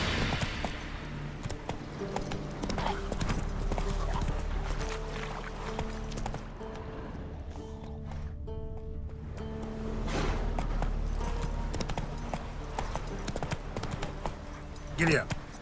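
Horse hooves trot in a steady, rapid clip-clop through The Witcher 3, close and clear over continuous game ambience and music, with a brief quieter stretch midway before the rhythm resumes.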